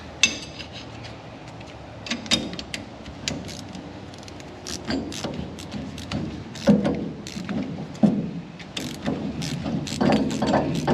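A 19mm box end wrench ratchets on a Bilstein 5100 suspension bolt, producing irregular metallic clicks and clanks of varying loudness, close up, with no voices.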